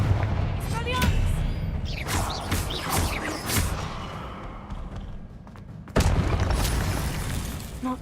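A Confringo blasting spell explodes in Hogwarts Legacy combat, with several booming, shattering impacts and thuds, the loudest crash near the end, mixed with a voice talking.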